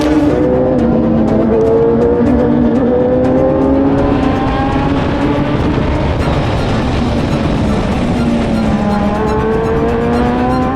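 A field of race cars roaring off at the start of a race, engines revving and climbing in pitch as several cars accelerate together, loud and close throughout with no talking.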